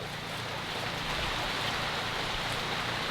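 Steady rain pours outdoors during a koi netting session, a dense, even hiss that stays constant and close throughout.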